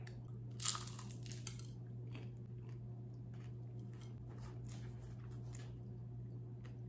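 Crisp bites and chewing of a warm, crunchy plant-based beefy taquito, heard up close as a few sharp crunches early on followed by quieter, irregular chewing, with no talking.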